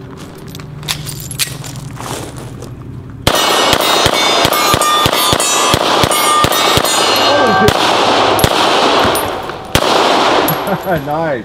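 Rapid series of sharp, loud Beretta 92 FS pistol gunshots fired outdoors on a hillside, evenly spaced cracks with a brief pause before a final few shots; a voice speaks briefly.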